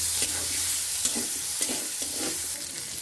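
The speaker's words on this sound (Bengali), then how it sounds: "চিংড়ি মাছগুলো একটু ভাজা ভাজা করে নেব।" Prawns sizzle in white oil in a wok with a constant close hiss, while a utensil stirs them in regular scraping strokes about every half second.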